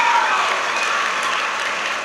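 A crowd at a school ceremony gives warm applause to honor three head teachers, a thick, sustained roar of clapping that holds loud and even throughout, with no talk over it.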